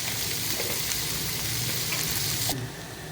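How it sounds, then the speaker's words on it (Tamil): Curry leaves and a large chopped onion sauté with a little salt in a hot pan, giving a dense, continuous sizzle that softens slightly near the end. "கருவேப்பிலை நான் போட்டு நல்லா வதக்கலாம். லைட்டாக உப்பு சேர்த்துக்கலாம்."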